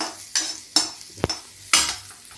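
Onions fry in a pan as a utensil stirs them, with several close scraping strokes and clinks against the metal over a low, steady sizzle, and no voices.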